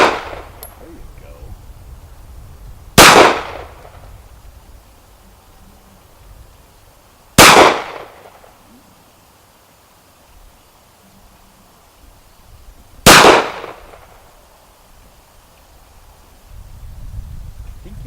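Three sharp, loud pistol shots from a Glock 43 ring out several seconds apart outdoors, each cracking hard and fading quickly into quiet.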